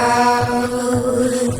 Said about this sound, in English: also has Saturn to make a pizzicato sound like this